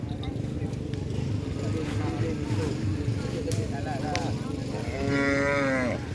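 Cattle low and moo amid a busy crowd at a Kerapan Sapi bull race in Asemanis, with a long, clear bellow rising near the end over steady background chatter and commotion.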